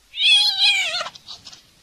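A cat in a narrated children's story lets out a single loud, clear meow that rises and then trails off, with no voices over it.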